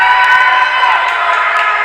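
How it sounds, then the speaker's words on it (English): A crowd of spectators at a WSHS versus Fairfax high school swim meet cheers and shouts steadily and loudly, with excited whoops rising above the sustained roar. "As you can hear, the crowd's getting excited for this one."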